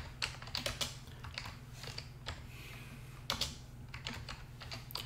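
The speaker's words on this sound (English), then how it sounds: "Just type in a couple of words." Quick bursts of typing on a computer keyboard, entering a few words into a word processor on a Linux desktop, close and soft clicky keystrokes in irregular clusters with short pauses between them and no speech.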